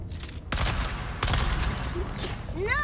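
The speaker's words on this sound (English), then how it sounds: "Why are you all throwing grenades?" Loud, dense blasts and crackling from grenade explosions in a sandy survival video game, one booming burst after another, with a voice briefly heard in the background.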